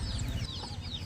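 Turkey hen with chicks clucking in a farm shed, a steady run of close, busy clucks and peeps over a low rumbling background.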